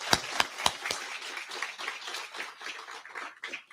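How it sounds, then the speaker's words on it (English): Applause at a humanitarian awards banquet in a civic center opens with a few loud, sharp separate claps before spreading into a softer, scattered round of clapping from the audience. "Please give them a round of applause."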